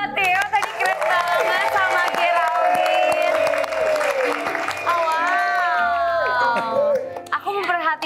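Studio audience applause for Theo on the Take Me Out Indonesia dating show, sustained clapping and cheering with whoops, loud and close, with excited voices and bright tonal sounds layered over it throughout.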